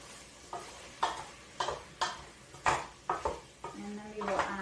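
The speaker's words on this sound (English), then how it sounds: "we are going to stir the tempeh so that it gets covered" Tempeh being stirred with vinegar in a pot: a series of evenly spaced scraping utensil strokes against the pot, each with a brief sizzle or clatter, close and moderately quiet.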